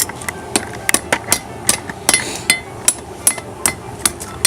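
Hammer blows ring out on nickel worked on a soft anvil in blacksmithing, a dozen or so sharp metallic strikes at an uneven pace, close and loud with no talk.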